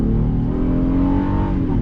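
A 2019 Honda Passport Sport SUV accelerating, its engine droning steadily and close with a smooth, slowly rising tone throughout, no talking.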